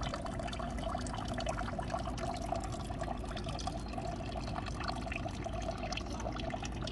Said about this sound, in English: my whole point of creating a fountain was the sound of water